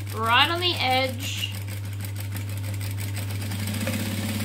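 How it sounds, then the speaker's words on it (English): A sewing machine stitches along the fabric edge of a handmade wallet, giving a steady, fairly close mechanical whir under a constant low hum. Someone talks over the start. "So I'm just stitching right on the edge,"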